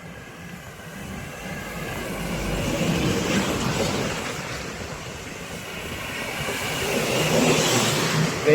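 Vehicles rumbling past on a forest road near Kaziranga, a broad swelling roar that builds, eases slightly, then rises again as traffic goes by, with no talk.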